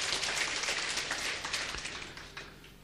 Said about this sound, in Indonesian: Kita beri tepuk tangan untuk Tuhan.